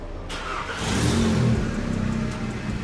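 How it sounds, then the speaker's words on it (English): Cold start of a 2015 8V Audi A3 with a catless downpipe and full exhaust: the engine catches and flares into a loud, raspy rev, then settles into a steady, rumbling high idle close by. "now we're gonna have our official cold start with a full exhaust"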